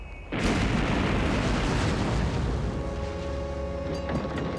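A falling bomb exploding in wartime: an abrupt, loud, sustained roar with deep rumble that starts suddenly and holds steady for several seconds without fading.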